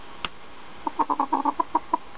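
A chicken clucking indoors, a quick run of short, throaty clucks after a single early note, close and clear with no talking.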